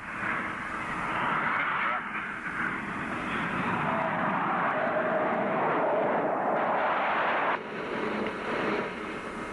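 A Cold War-era US military jet on approach for landing with gear down roars in a steady, loud, continuous wash of engine noise with no breaks.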